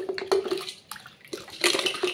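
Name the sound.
water washing the inside of a hot water kettle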